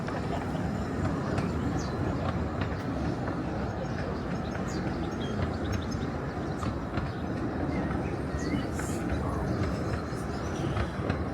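Continuous rumble and clatter of a train rolling past at close range, wheels rattling over the track, with faint voices in the background.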